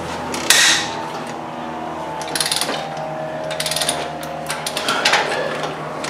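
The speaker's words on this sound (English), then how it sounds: "to bust these head bolts loose" A T60 Torx socket on a ratchet breaks loose the head bolts of a 2007 Range Rover 4.2 supercharged engine, giving bursts of close, loud metallic ratcheting clicks and clunks separated by short pauses.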